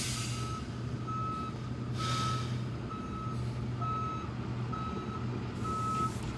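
A large truck reverses, its backup alarm beeping in a steady, evenly spaced pattern over a low diesel rumble, moderately close.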